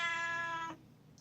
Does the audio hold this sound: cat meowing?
yes